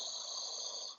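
A single deep breath drawn in during a yoga twist, a steady airy hiss close to the microphone lasting about a second and fading out at the end.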